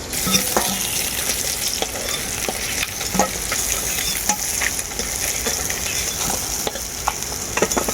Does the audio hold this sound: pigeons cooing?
no